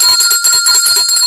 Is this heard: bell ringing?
yes